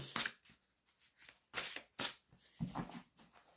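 A deck of tarot cards being cut and handled up close, giving several quick papery riffles and soft slaps in uneven bursts, clear against near silence.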